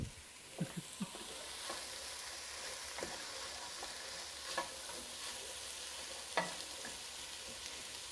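Enoki and button mushrooms sizzle steadily in a frying pan while being stirred, with a few sharp scrapes and clacks of the utensil against the pan over a continuous close frying hiss.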